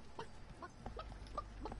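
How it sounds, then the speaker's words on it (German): Soft, low-level chicken clucks from a player turned into a chicken in the video game Realm Royale, four or five short evenly spaced clucks over a steady game background hum. "ich bin wieder ein Huhn"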